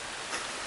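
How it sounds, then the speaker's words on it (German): Steady rain falls outdoors in a forest, making a continuous even hiss of drops with no other sounds. "Es regnet übrigens."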